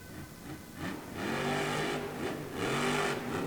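The Toro Loco monster truck engine revs loudly in an indoor arena at a Monster Jam event at Greensboro Coliseum, rising in pitch and holding a strong sustained roar, moderately distant with crowd ambience beneath.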